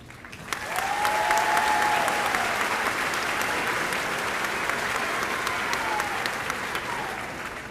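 Loud, full applause from a high school graduation audience cheering seniors enlisting in the military, rising quickly and holding steady for several seconds, with faint shouts inside the clapping.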